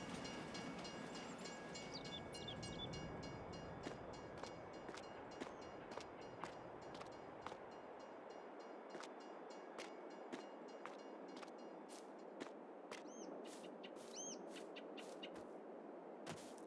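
A train passing in Farming Simulator 22 on the Angel Mountain map, a faint rolling rumble that thins out partway through, leaving a run of sharp, regular wheel clacks over rail joints, with no voices.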